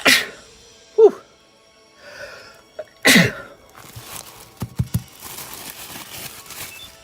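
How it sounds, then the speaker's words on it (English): A loud, close sneeze bursts out sharply, followed by a few breathy exhales and small vocal noises in a quiet room. "Oh, I gotta sneeze."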